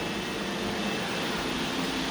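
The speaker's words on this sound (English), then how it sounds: "It's the loudest robotic vacuum I've tested. It gets up to 77 decibels on high." A robot vacuum cleaner running on its high setting, the loudest of several tested, gives a constant broadband whirring roar like a fan or air conditioner, steady and unbroken for the whole stretch with no talking.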